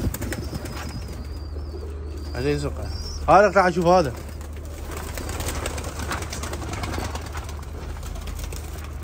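Pigeons in a loft coo softly in a short mid-clip burst, close by, while someone speaks over a steady background hum.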